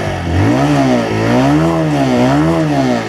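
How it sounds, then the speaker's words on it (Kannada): A TVS Raider 125cc motorcycle's exhaust revs up and down in repeated swells, loud and close, the engine note rising and falling in a steady rhythm with no talk. "ಎಕ್ಸಾಸ್ಟ್ನ ರೆವ್ ಮಾಡೋಣ."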